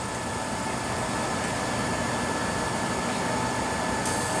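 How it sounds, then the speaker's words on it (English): A vacuum pump starts pumping down an Oxford 700 Cryostream, giving a steady, loud, even mechanical roar with no pauses and no talking. "we are now going to start up the vacuum"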